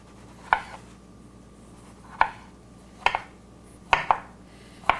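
Knife slicing a butternut squash down the middle into little slices, five sharp cutting knocks against a board spaced about a second apart, some in quick pairs, close and clear with no talk.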